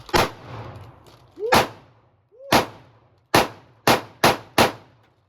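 Seven sharp pistol shots from a Springfield Armory Hellcat or Sig Sauer P365 at an outdoor range, loud and close, fired in an uneven string that quickens toward the end, each with a short ringing tail.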